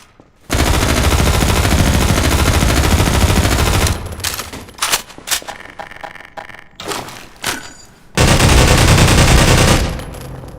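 Gunfire in a modded video game: dense sustained bursts of automatic fire, then scattered individual shots and thuds, followed by another loud continuous volley that tapers off.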